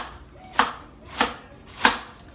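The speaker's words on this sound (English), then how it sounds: "I'm gonna get started chopping my cabbage." Handmade forged knife chopping cabbage on a board, three crisp, evenly spaced crunching cuts about half a second apart, close and clear, with no talking.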